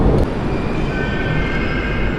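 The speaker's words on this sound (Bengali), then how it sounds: "এগুলো আন্ডারগ্রাউন্ড মেট্রো তো আমরা এখন আছি বেদেন খাতে" Steady rumble and rushing roar of a train in a Moscow underground metro station, broad and continuous with a faint high whine, no voices.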